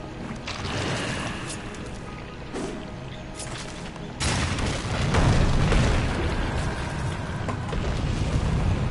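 A bomb blows up in the video game Darksiders 2: a loud low boom near the four-second mark that swells into a rumbling, crackling wash of debris and ambience and holds for several seconds, with no voices.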